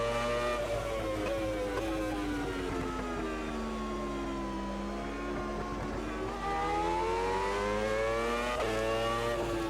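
1996 Formula 1 cars, including Benettons, race in the sim Automobilista 2 with a loud continuous engine wail that rises and falls through the gears along a sweeping section of track.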